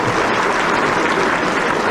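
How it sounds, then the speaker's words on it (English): A loud, dense burst of clapping from a crowd at a Los Angeles overseas Chinese community banquet, steady and continuous for the whole moment, with no voices standing out. "Please give him a big round of applause."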